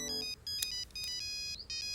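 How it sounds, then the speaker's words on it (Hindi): A mobile phone ringtone plays as a bright, repeating electronic melody, with short pulses broken by brief gaps and nothing else under it. "तब से फोन की रिंग बज रही है"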